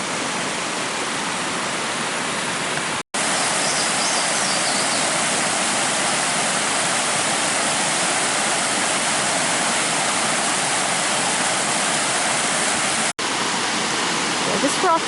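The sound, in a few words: waterfall at a nature reserve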